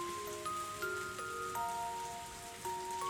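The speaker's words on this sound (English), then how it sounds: "Only sound reaching my ears is the rain." Soft steady rain patters in a visual novel game scene, faint continuous hiss beneath a gentle melodic tone track.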